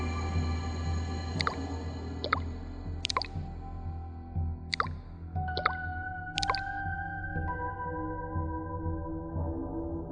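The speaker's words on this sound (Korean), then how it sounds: "화장실에서 물이 똑똑 떨어지는 소리가 들려왔습니다" Water drips in a small bathroom, single drops falling at irregular intervals with bright ringing plinks, faint and close over a low background hum, with no voices.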